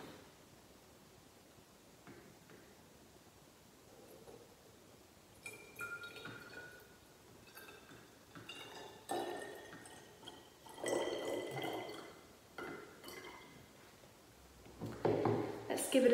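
Water poured from a container into a glass bottle, the fourth in a row being tuned as a homemade instrument, fills it with intermittent splashing, gurgling bursts that come in separate pours and grow louder toward the end, close to the listener.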